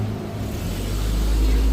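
Road traffic rumbling past on the Barali Mirpur Dadiyal Kotli Road, with a continuous engine drone that swells and grows heavier toward the end while a voice talks over it.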